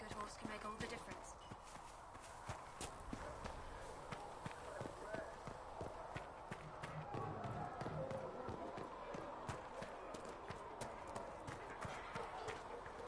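Horse hooves clip-clop steadily through a Dragon Age Inquisition game scene, a busy rhythmic patter of steps running throughout under ambient game sound and spoken dialogue.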